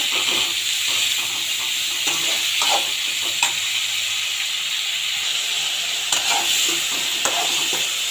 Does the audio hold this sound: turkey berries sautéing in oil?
yes